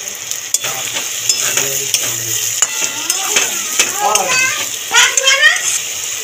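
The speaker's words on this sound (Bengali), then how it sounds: "মশলা কষানো হয়ে গেছে, মশলা দিয়ে তেল ছাড়তে শুরু করে দিয়েছে।" Spice paste fried and stirred in oil for a shrimp and cabbage dish, with steady sizzling and scraping stirs throughout, fairly close, while a voice chatters intermittently in the background.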